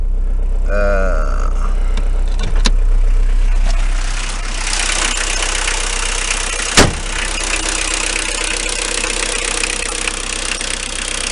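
A Renault 21 turbo diesel with 180,000 km runs steadily close by, with a continuous loud drone and a faint knocking rattle. A single sharp knock-like transient stands out partway through. No one speaks.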